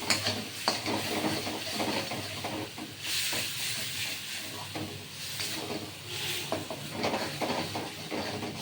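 Soybean and paneer kofta curry masala being sautéed in a pan, a steady hiss and sizzle with scraping stir strokes throughout, close and fairly loud, with no talking.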